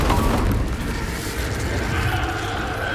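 The Incendio fire spell cast in the video game Hogwarts Legacy, a loud, close burst with a booming whoosh that settles into a crackling, roaring rumble, with no speech.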